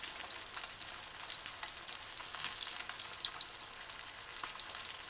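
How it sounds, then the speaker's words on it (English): Steady, crackling sizzle of boneless fish fillet deep frying in hot oil without flour, dense and continuous at moderate volume, with no voices. "This is frying fish, boneless fish, fish fillet"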